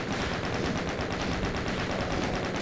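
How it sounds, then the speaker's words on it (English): Rapid, steady gunfire from a weapon in Doom II, a dense continuous stream of loud shots with no pauses and no talking. "Now we'll switch back to the other shotgun."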